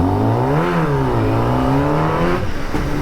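A Kawasaki ZX10R motorcycle engine revs loud and close, its pitch rising and falling in sustained throttle sweeps with no talk.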